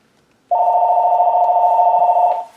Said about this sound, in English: I don't know what's going on with my phone today. It's like the last 2 days it's been ringing non-stop.